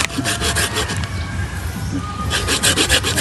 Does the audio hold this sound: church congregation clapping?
no